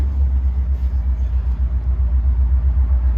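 1955 Ford Thunderbird convertible cruising at 40 mph, a loud, steady low engine and road rumble from inside the car with no pauses.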